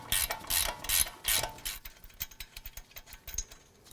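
A hand ratchet loosens the upper ball joint nut on the upper control arm of a 2007-2014 Cadillac Escalade, first with loud rapid clicking strokes, then a quieter, steady run of close ticking clicks.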